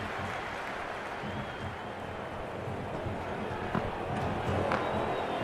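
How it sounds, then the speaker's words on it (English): A cricket stadium crowd at an India vs Pakistan T20 World Cup final cheers and applauds in a steady distant roar that swells slightly toward the end. "The crowd is electric right now."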